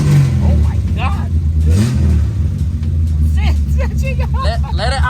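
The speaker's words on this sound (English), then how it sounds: "It sounds like a V8. Like a V8 sound." A Datsun 240Z with a swapped-in engine and a lively cam revs loudly and continuously with a deep, low rumble, while excited voices talk and exclaim over it close by.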